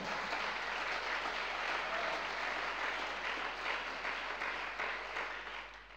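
A church congregation breaks into sustained applause, dense and even clapping from many hands filling the room for several seconds, no voices standing out.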